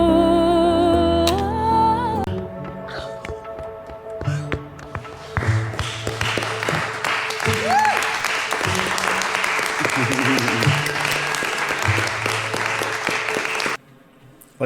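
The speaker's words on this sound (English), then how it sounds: "You heard all the clapping" An American Idol crew breaks into steady applause after an audition, a dense patter of clapping mixed with music, taps and people talking, before it cuts off abruptly.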